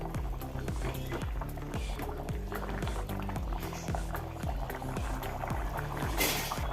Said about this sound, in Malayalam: ചിക്കൻ വെന്ത് വരുന്നുണ്ട്